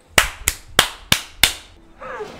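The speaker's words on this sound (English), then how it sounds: "That famous clap that you do to your friends when you don't like them." Slow, sarcastic hand clapping from a scene in The Dark Knight, five sharp, crisp claps at an even, deliberate pace, close and loud, followed by a brief murmur.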